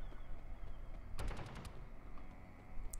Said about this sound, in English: Did he just shoot at me?